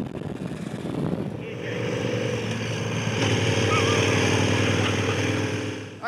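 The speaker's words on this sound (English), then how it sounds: "Look at that, he didn't even notice we changed gear." Motorcycle carrying a pillion passenger shifts gear without the clutch, its close, steady engine drone climbing in pitch with a brief change in tone partway through, over constant wind rush.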